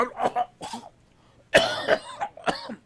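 Several harsh, raspy coughs in two short bursts, close by, with a brief pause between them and no talking.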